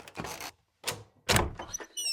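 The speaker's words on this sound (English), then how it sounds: "Well, I'll cover you, Britt, while you open the door." A door opens in a radio drama: a few knocking thunks and a rattling bump in separate bursts, close and clear with short gaps between them.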